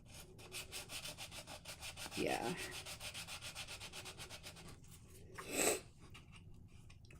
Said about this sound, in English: I can probably get it with my little sanding thing here.